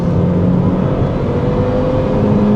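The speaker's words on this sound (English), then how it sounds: "And yes, it will redline, not a problem." A 2003 Dodge Neon SRT-4 engine holds a steady, loud high-rev drone near redline, continuous and close throughout with no talk.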